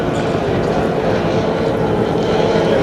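A 25 horsepower racing powerboat runs down a river back straight at a 2023 Northern Rivers powerboat club race, its engine a steady, buzzing drone with no letup.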